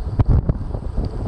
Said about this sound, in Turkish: yolun ne tarafından giderseniz gidin, sizi karşıdan gelen bir rüzgar karşılıyor